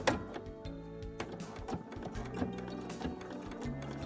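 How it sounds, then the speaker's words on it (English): A sewing machine stitches a spring coat, its needle running in a quick, steady mechanical patter with short pauses, close and fairly quiet, with no voices. "I'm going to start stitching"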